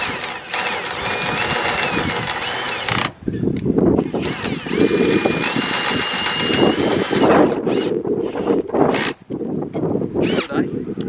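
A power drill drives a homemade jockey wheel in repeated bursts, whirring and grinding with brief pauses between runs, while people talk in the background.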